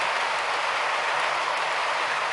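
A model Class 423 slam-door train runs around a model railway layout, giving a continuous, even rushing rumble at close range with no breaks, and nobody speaks.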